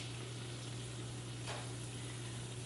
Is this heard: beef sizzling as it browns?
yes